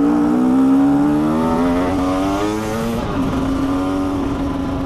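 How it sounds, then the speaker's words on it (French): An enduro motorcycle idles steadily after a winter without running, a loud, close, continuous engine drone with slight pitch wavering and no voices. "La batterie, ça lui fera du bien de tourner, parce qu'elle n'a pas tourné d'un petit moment, la moto"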